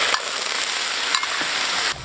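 Sichuan peppercorns and spices hit hot mixed oil and lard in a wok and sizzle steadily, a dense close crackle with a few brief stirring scrapes and no voices.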